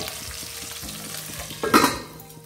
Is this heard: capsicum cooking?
yes